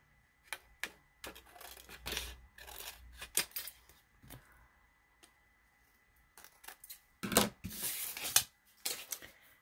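Scissors trim a piece of acetate around the stitching on a small card, with close, crisp snips coming in irregular bursts separated by short pauses.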